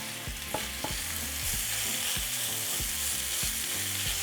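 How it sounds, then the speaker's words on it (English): Meat sizzling and frying in a hot oiled skillet, a steady loud crackle with periodic stirring or shifting scrapes, no talking. "once our skillet is nice and hot, we're going to throw in our meat and we're going to layer it in a single layer"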